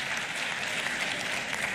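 Sustained applause from senators fills a legislative chamber during a presidential state-of-the-nation address in Côte d'Ivoire, an even, dense clapping throughout with no voices on top.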